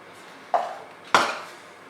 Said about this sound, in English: And now I'll put the lid on.